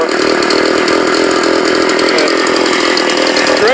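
A Stihl 027 chainsaw with a suspected carburetor or vacuum fault runs steadily in a shop, loud and close with a constant buzzing drone and a slight pitch shift near the end.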